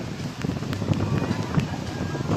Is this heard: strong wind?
yes